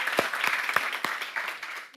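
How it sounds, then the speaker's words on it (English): A TEDx audience claps for a volunteer coming on stage, a short burst of scattered, irregular claps that taper off within two seconds. "Please give Hila a huge round of applause."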